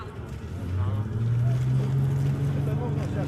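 A vehicle drives away across a frozen lake in Siberia near Irkutsk, its low engine drone swelling and rising slightly in pitch, moderately loud against faint wind.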